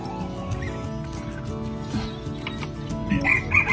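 Wild junglefowl (labuyo) chickens cluck and murmur around the listener, with a rooster's call rising near the end over a busy farmyard background.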